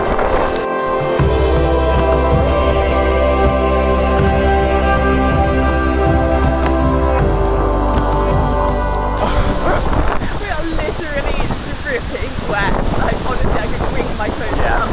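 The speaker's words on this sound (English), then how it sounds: "But it was literally the bottom of the waterfall." The base of Tumpak Sewu waterfall in East Java roars with a loud, constant rush of falling water and heavy spray battering the microphone, close and unbroken throughout.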